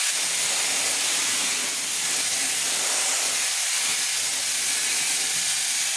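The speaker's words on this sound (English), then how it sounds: "So I'm just gonna go ahead and dry my hair with this" A steady, loud broadband blast of rushing air from a hair dryer running on its fast setting, continuous and unbroken throughout with no voices.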